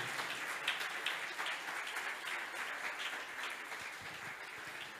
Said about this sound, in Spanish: Dale fuerte ese aplauso